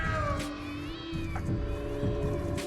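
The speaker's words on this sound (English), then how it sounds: "Is that a cat?" A cat meows loudly and repeatedly in a video game, drawn-out wailing cries with a caterwauling edge that carry through steady game sounds.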